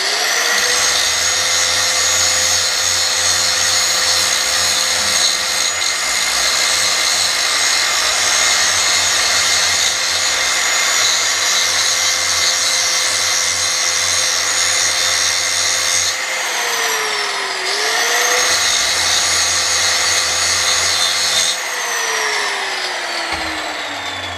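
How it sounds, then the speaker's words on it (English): An angle grinder grinds blue paint off the top surface of a metal joystick mount, giving a loud, steady high-pitched whine with abrasive hiss that runs continuously, dips briefly twice as the tool eases off, then resumes. "I'm just taking the angle grinder and taking the blue paint off of the top here"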